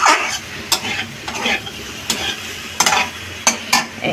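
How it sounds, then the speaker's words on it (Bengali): Vegetarian spice paste frying in a little oil, stirred with scattered scraping strokes against the pan over a light, close sizzle. "মশলা থেকে তেল বেরিয়ে অল্প একটু তেল দিয়েছি তো, দেখুন আমার মশলা কষানো হয়ে গেছে"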